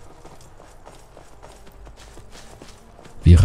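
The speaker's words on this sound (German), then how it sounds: "Wir reiten durch die Prärie." Horse hooves clop at a steady, even riding pace in Skyrim, moderately close and at moderate volume, with a louder burst of noise at the very end.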